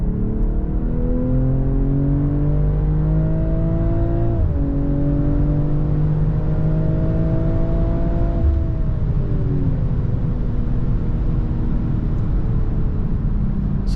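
A 2023 BMW M340i in sport mode pulls hard under acceleration, its engine note rising steadily through the revs, dipping briefly at a gear change, then climbing again, loud and close from inside the cabin.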